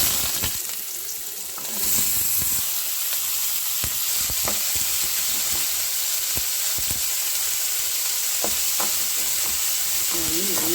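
Onion fries in hot oil for upma, giving a loud, continuous close sizzle with scattered crackles and pops throughout.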